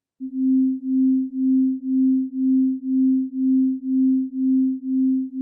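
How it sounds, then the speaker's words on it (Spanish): A steady pure tone near 262 Hz, 261 Hz in one ear and 263 Hz in the other, hums alone with a slow, regular pulsing, about two beats per second, swelling and fading evenly throughout. "qué sucede si se reproduce un tono de 261 Hz en un oído y un tono de 263 Hz en el otro"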